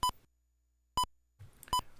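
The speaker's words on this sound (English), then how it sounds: "the short speaker beep sound is to show the function of the second timer as" Three short electronic speaker beeps from a timer on a RISC-V RV32I FPGA board acting as a sound frequency source, each a brief pure tone with harmonics, spaced about a second apart against faint background noise.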